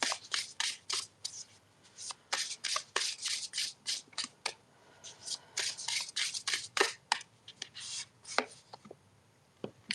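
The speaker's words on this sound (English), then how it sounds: "I shuffled and shuffled and shuffled and it came back out again." A deck of tarot cards is shuffled by hand again and again, a rapid run of crisp riffling and slapping bursts, close and steady throughout.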